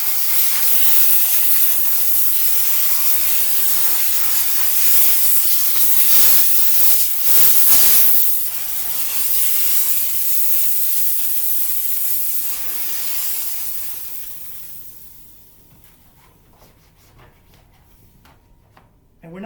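A Chief Steamer 125 PSI steam cleaner blasts Optimum No Rinse through its hose onto a car door jamb, a loud steady hiss running for about fifteen seconds before tapering to quiet, with a person talking over it.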